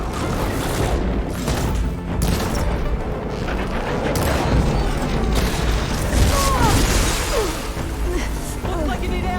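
Combat against a Frostclaw machine in Horizon Forbidden West: dense rumbling booms, crashes and mechanical noise run throughout, with a few whistling tones and voices talking amid the loud, steady din.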